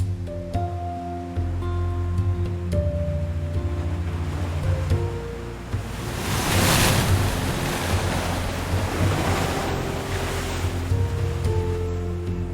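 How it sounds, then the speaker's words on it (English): Heavy ocean surf breaking with enormous force against rocky shore on the Guelmin coast, a continuous roaring wash that swells louder midway, with wind noise and low rumble, no voices. "the waves crush with enormous force against the rocks"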